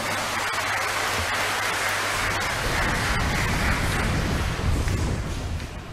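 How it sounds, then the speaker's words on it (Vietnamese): An audience of children and youth at a Catholic parish feast-day gathering clapping together. A dense, sustained wash of applause lasts throughout, with no talk over it. "Chúng ta vui thì chúng ta vỗ một tràng pháo tay để cảm ơn nhau nào."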